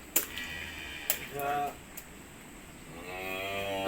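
A dairy cow on a farm lets out a couple of drawn-out moos amid sharp clicks and faint farmyard background, with a louder, lower lowing swelling near the end.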